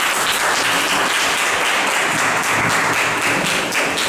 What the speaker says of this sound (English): So you can give a clap for everyone.